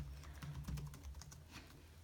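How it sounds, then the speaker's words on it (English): Fingers tap out a password on the keyboard of a Dell Latitude E7240 laptop: soft, quick keystrokes in an uneven run, heard up close and quiet with no talking. "So I'm going to be just putting my camera up so I can type this password in"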